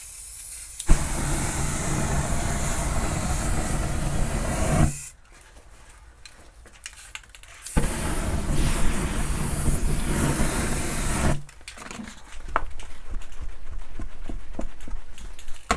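Clear coat sprayed from an aerosol can over a painted cityscape, heard as two long, loud steady hissing bursts separated by quieter pauses filled with faint clicks and handling.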